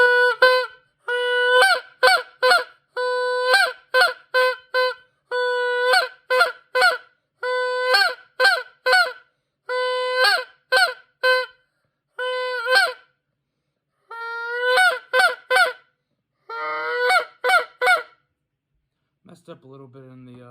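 A long honker goose call blown by hand imitates a Canada goose, giving a long series of sharp, loud honks in quick bursts and pauses, close and alone, ending with a brief break.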